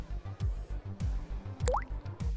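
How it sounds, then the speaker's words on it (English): A single comic water drip from the animated series Futurama, episode "My Three Suns," rising in pitch once near the middle over a steady, rhythmic low background score. "That lone drip sound effect is comedy gold."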